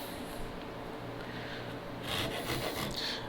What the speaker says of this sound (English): I'm almost not doing any downward pressure with the saw.